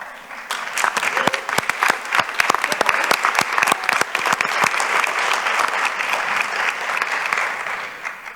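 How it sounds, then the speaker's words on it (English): A conference audience applauds superintendents standing up, a dense, sustained burst of clapping from many hands that fills the space and carries on evenly for several seconds. "please stand up so we can give you a round of applause."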